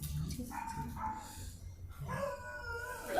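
A dog barks and howls in drawn-out, whining calls, moderately close, with some faint voice in the background.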